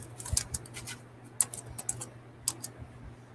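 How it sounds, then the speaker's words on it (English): Keys on a computer keyboard are tapped in short, uneven bursts of crisp clicks with brief pauses between them, close and fairly quiet. "Can y'all hear me typing when I type?"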